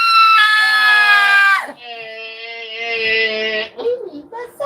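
A child screams loudly in long, sustained, high-pitched bursts at close range, pausing between cries as an adult talks nearby.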